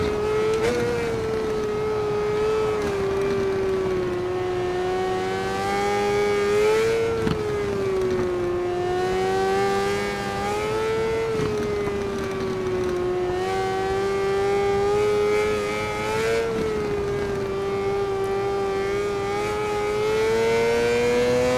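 A 2017 Vyrus 986 M2 race motorcycle with a 600 engine, lapping Suzuka GP in the RIDE 4 video game, holds a loud, high, steady engine whine that rises and dips gently with the throttle throughout, with no talk over it.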